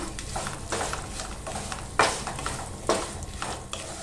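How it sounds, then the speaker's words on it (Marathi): Black raisins and poppy seeds are stirred and roasted in a pan for dry fruit laddu, a low sizzle under repeated scraping strokes and a couple of sharper clinks, close by and without speech. "आता आपण यात मनुका टाकूया काळ्या मनुका टाकूया खसखस पण टाकूया आणि थोडं ना आपण असं परतून घेऊया"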